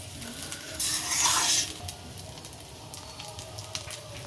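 Fried rice stirred with ghee in a pan, a burst of scraping, sizzling stir around the one-second mark, then quieter faint clinks and light sizzle continuing alone.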